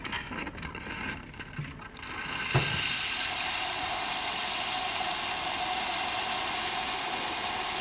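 Steam wand of an Isomac Millenium espresso machine opens with a short click, then a loud, steady hiss that holds constant to the end.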